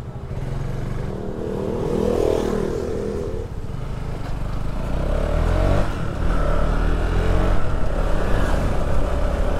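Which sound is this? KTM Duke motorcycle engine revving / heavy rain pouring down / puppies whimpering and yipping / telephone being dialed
KTM Duke motorcycle engine revving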